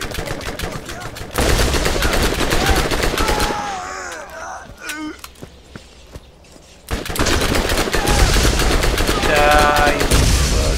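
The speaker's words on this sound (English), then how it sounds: "I do love the machine gun" Heavy machine gun fire from a level 19 weapon in Borderlands rattles in long, loud, dense bursts, broken by a quieter stretch of scattered shots and creature sounds before the firing resumes.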